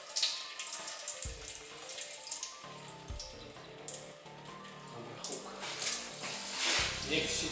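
Thin diesel drains out of a Volvo car engine, pouring and splashing steadily in a continuous stream, gurgling and spattering close by, with faint voices now and then.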